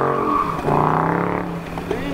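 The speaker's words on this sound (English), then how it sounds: "He's over there doing burnouts and 360s, donuts" A car revving hard while doing burnouts and donuts, its engine droning steadily for about two seconds with rising tones and possible tire squeal, close and loud, with voices mixed in.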